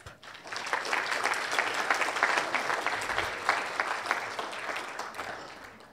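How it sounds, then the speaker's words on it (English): A room full of people applauds steadily at a symposium closing ceremony, a dense wash of clapping that swells and then tapers off toward the end. "please give yourselves a big clap"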